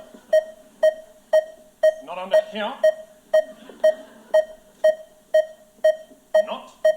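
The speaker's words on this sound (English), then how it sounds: "What is that weird beeping sound?" A steady electronic beep pulses about twice a second, each tone short and identical, running through a stage musical revue with voices singing and talking over it partway through.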